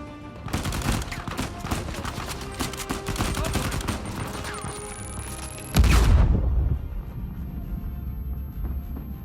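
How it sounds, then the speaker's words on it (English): Dense, loud gunfire rattles through a firefight in the video game Uncharted 4: A Thief's End, ending in a sudden heavy grenade blast close by whose low rumble trails off into quieter ambience. "didn't even see that grenade coming, it just blew up right next to me"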